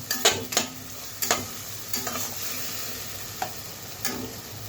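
Kashmiri chilli powder and chilli powder stirred and fried in oil in a pan, a soft continuous sizzle cut by a handful of sharp spoon scrapes and taps against the metal, no talk.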